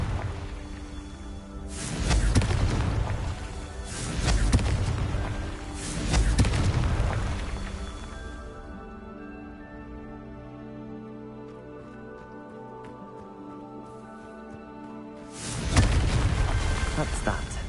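Confringo spell explosions in the Hogwarts Legacy video game go off as four loud booming blasts at spaced intervals, with a quieter stretch of game ambience and music between the last two.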